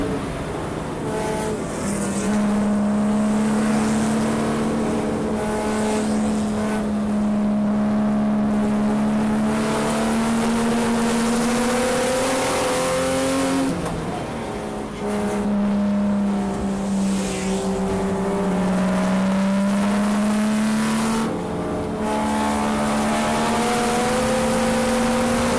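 Spec Boxster race cars lap Lime Rock in a Porsche Club of America club race, engines droning loudly and steadily with shifting pitch as cars accelerate, upshift and sweep past the microphone.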